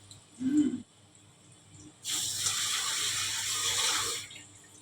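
Cold water runs from a tap to soak food, a loud, steady gush lasting about two seconds after a brief low knock and a moment of quiet.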